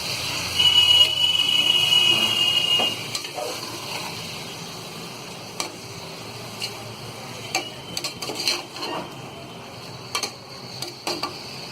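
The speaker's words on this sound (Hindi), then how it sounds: "और ये लाल मिर्च पाउडर लाल मिर्च पाउडर डाल के हम इसे अच्छी तरह मिक्स कर लेंगे।" A spoon stirs red chilli powder and salt into mutton biryani masala in a pot, giving irregular scraping clacks over a faint sizzle, close and fairly quiet.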